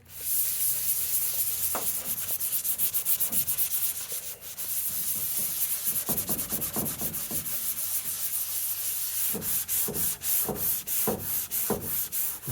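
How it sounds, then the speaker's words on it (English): Hand sanding of 2K primer on a car part, a steady close scratchy rasp of abrasive paper in long continuous strokes, with a pause midway and then shorter back-and-forth strokes. "So I'm gonna sand a little bit more."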